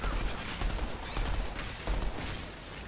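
Spiderlings blowing up in the shooter game Outriders, a scattered series of muffled bursts and crackling pops layered over constant combat noise at moderate loudness, with no clear pauses between them.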